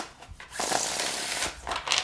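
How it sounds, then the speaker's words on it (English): A textured tarot card deck is shuffled by hand, soft papery rustling bursts coming in two close, quiet passes with a brief pause between them. "I am going to have to shuffle this deck a little differently than I normally shuffle my tarot decks"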